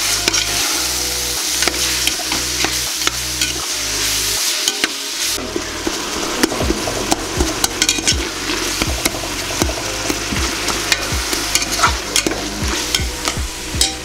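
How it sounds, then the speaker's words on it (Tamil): Tomatoes sautéing with mushrooms in a pan for mushroom biryani, a steady sizzle broken by repeated scraping and stirring strokes of a utensil against the pan, close and continuous with no voices. "டொமேட்டோ வந்து நல்லா வதங்கிச்சு"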